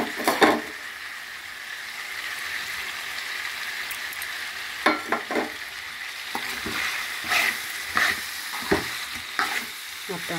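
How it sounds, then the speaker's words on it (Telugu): Radish chicken curry with garam masala being stirred in a frying pan: a continuous sizzle broken by several louder scraping strokes of the spoon against the pan, close up and without talk. "మొత్తం అంతా కలిపిస్తున్నాం"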